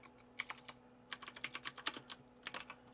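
Typing on a computer keyboard, quick close-up key clicks in short bursts separated by brief pauses, over a faint steady hum.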